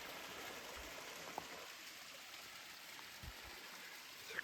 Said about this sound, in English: It's a creek.